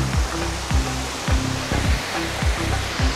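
Busagak Falls, a hidden waterfall in Pinamungajan, Cebu, heard as a loud, continuous rushing roar close by, with a repeating low rhythmic thump pulsing underneath and no talking.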